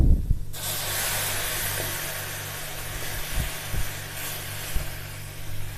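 Water hits a hot pan of omelette gravy with a sudden sizzle that settles into a steady, close hiss, with a few soft utensil knocks.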